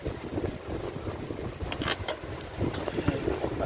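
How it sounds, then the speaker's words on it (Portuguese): Strong wind roars and buffets the microphone beside the Cachoeira river in Itabuna, Brazil, with a rough, gusty rumble and sharper bursts throughout, no talking. "o vento tá forte"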